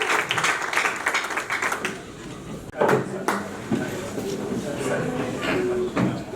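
A seated audience welcomes Professor Emile Bongeli with a sustained patter of applause and cheering, brief louder bursts of clapping rising over crowd murmur and voices.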